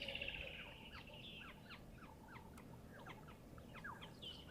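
Many birds call and chirp together in an early morning chorus out in the bush near a dam, with overlapping short whistles and trills at moderate distance over a steady low background hum.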